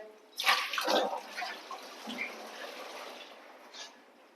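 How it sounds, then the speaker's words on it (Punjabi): Onions being rinsed under running water while preparing cauliflower parathas, a soft steady splashing wash that rises early, then settles into a quieter continuous trickle with a few brief drips, no one talking. "ਪਿਆਜ਼ ਨੂੰ ਧੋਣਾ ਜਿਹੜਾ ਇਹ ਬਹੁਤ ਜ਼ਰੂਰੀ ਆ"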